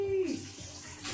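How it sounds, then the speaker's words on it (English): Water pours from a bowl into a sink in a short, loud splashing rush that trails off into dribbles. "I'm just going to go and empty my bowl of water"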